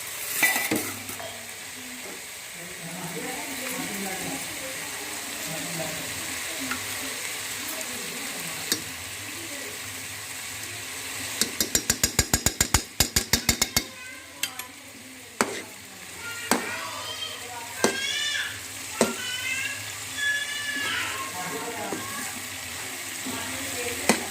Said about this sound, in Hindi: अब मज़ीद हम इसे 5 से 7 मिनट तक भूनेंगे अच्छी तरह।